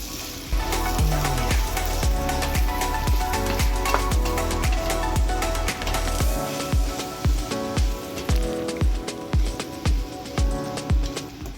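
Mushrooms sautéing in masala in a pan give a steady loud sizzle, overlaid by a regular series of scraping, tapping strokes as the mix is stirred, without any speech.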